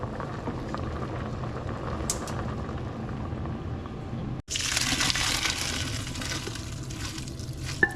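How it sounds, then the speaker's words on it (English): Boiled macaroni noodles poured into a colander, a steady hiss of bubbling water giving way at the midpoint to a louder, brighter rush of water gushing and draining, close up and alone. "So I'm gonna go ahead and take these off and drain them"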